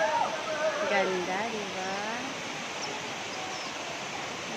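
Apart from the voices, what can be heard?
Mantayupan Falls waterfall in Cebu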